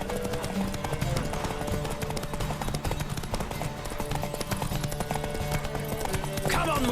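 Horse galloping in The Witcher video game, rapid continuous hoofbeats under game music and riders' shouted voices, steady and fairly loud throughout.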